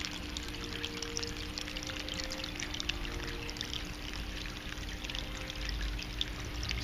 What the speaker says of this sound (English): All these fountains are hand-sculpted by Charles Kern of Natural Creations